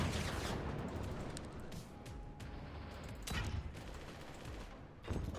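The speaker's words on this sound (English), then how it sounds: "I hope my current economy can support the howitzer firing." Howitzer and other weapons firing in the game Forts, a dense barrage of booming shots and crashes repeating irregularly, loud and continuous with sharp peaks.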